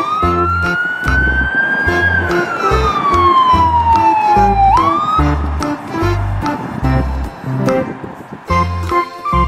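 Toy police car and ambulance siren wailing loudly and continuously, rising and falling in pitch over a chunky electronic beat, close and alone with no talking.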